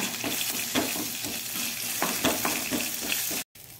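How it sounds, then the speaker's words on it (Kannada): Neer dosa masala frying in a pan, a loud continuous sizzle broken by rhythmic scraping strokes of a spoon stirring, close up, cutting off abruptly near the end. "ಈಗ ಅದನ್ನು ಸ್ವಲ್ಪ ಒಳ್ಳೆ ಫ್ರೈ ಮಾಡ್ಕೊಳ್ಳೋಣ."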